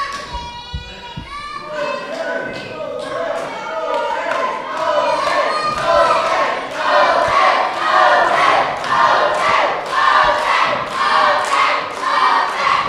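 A wrestling event crowd cheers and shouts in rising waves, loud and close, with thuds and chanting bursts building toward the end.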